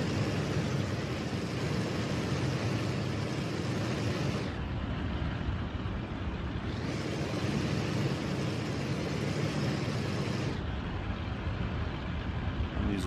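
Engine drone of a flight simulator airplane on a landing approach with flaps and wheels down, a steady broadband roar that holds throughout with periodic dips in its brightness.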